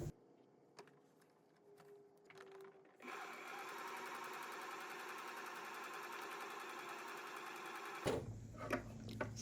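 A sewing machine runs steadily for about five seconds, stitching fabric for homemade tabi slippers, with quieter handling noises before it starts and a louder clatter as it stops.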